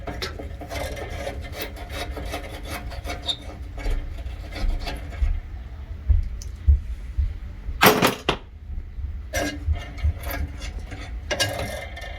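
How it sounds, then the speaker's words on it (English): A Phillips bolt being unscrewed by hand with a screwdriver on a gas water heater, giving close rasping and ratcheting scrapes in uneven bursts, with one sharp louder clatter midway. "Alright, so I got my fiddle screwdriver. Take out this Philip bolt."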